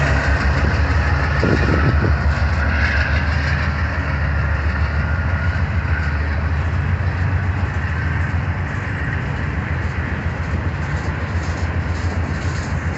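Gray KCS de Mexico locomotive rolling past with a Canadian Pacific leader, a loud steady engine rumble and rail noise that holds throughout without a break.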